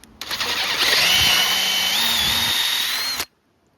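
A cordless power drill drives screws into a part on an MK2 MG ZR car under restoration, running steadily for about three seconds with a rising whine before cutting off abruptly, close and loud.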